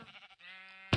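Sheep bleating in the Minecraft video game, a short, steady bleat held for about half a second after some softer low fluttering, then cut off by a brief loud burst at the end.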